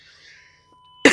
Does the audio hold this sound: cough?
yes